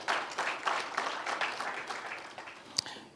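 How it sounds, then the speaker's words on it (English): A modest audience at a World Ozone Day celebration applauds a presentation on refrigeration, scattered clapping that swells and gradually thins, fairly quiet and somewhat distant, with one sharper clap near the end. "A round of applause to Basil."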